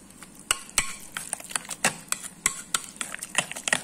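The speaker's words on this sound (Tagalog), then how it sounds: "Mix well, combine na natin sila." Salad ingredients seasoned with black pepper being stirred and mixed in a bowl, giving quick irregular clicks and scrapes of a utensil against the dish, close and fairly loud, with no talking.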